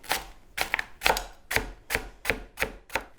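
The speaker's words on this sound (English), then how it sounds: "you're going to take it and slice it into little coins" Eight sharp, evenly spaced knife strokes through a lemongrass stalk on a cutting board, each a crisp close-up chop with brief silence between, steady rhythm over about three seconds.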